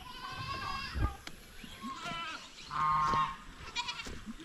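Goats bleating in a fenced pen on a small farm, several loud wavering calls at close range, one after another with short gaps between them.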